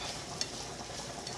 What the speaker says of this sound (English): As soon as this butter melts, though, we'll get to sauteing.